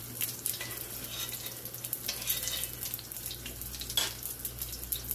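Salt fish fritters frying in hot oil on a stove set between medium and high, a steady close hiss and crackle with fine sputtering pops and a low hum underneath.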